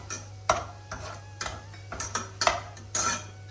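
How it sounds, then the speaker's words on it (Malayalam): Utensil scraping and stirring in a pan as rava (semolina) is roasted in ghee for aval halwa, a series of close, sharp metallic scrapes at an uneven rhythm over a low steady hum. "കൂടി നെയ്യിട്ട് 1 കപ്പ് റവ വറുത്തെടുക്കണം"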